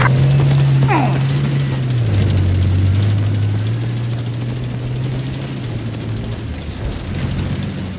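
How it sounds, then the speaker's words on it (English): A hostile helicopter flying in Battlefield 4, a loud, steady low rotor drone that wavers in pitch throughout, with brief mechanical clicks early on. "there appears to be a hostile chopper."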